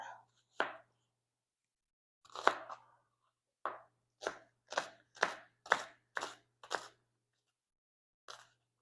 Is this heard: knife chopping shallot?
yes